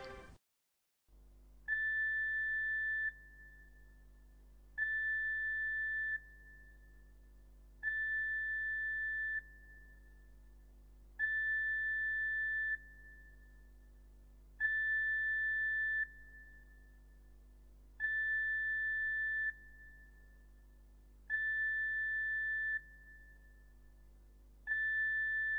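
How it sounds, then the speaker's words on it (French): Aboard the ferry Kalliste on the Marseille–Corsica route, the ship's evacuation alarm sounds as a clear electronic tone in about eight even bursts, each lasting a second or two with short gaps, over a faint steady hum. "Si vous entendez ce signal d'alarme, qui est doublé d'un signal visuel stroboscopique de couleur claire"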